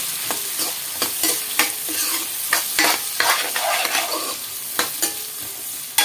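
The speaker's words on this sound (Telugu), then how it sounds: "కట్ చేసి పెట్టుకున్న ఉల్లిపాయలు అవి చక్కగా వేగనిద్దాము." Chopped onions frying in a pan for dhaba-style egg masala curry, with a steady close sizzle broken by repeated scraping spatula stirs, no talking.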